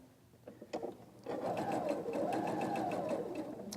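A sewing machine stitches vine and stem appliqué, starting with a few hesitant needle taps, then running into a steady, fast, even whir that holds for the rest of the clip, close and clear with no talking.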